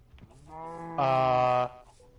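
Cattle mooing on a farm in a video game: one long, loud, harmonic moo swells in the middle of the clip, with a fainter lowing call before it, close by and alone without talk.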